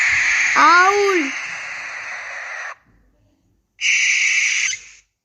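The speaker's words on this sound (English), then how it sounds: "owl." An owl hoots in a kids' bird-sound sequence: a loud, breathy, wavering call lasting about two and a half seconds, a short pause, then a second shorter call, with a few rising whistle-like inflections near the start.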